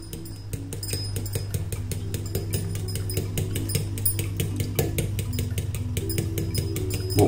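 Five eggs with a pinch of salt and pepper whisked in a bowl, quick rhythmic clinking taps of utensil against the bowl repeating steadily throughout, close and clear.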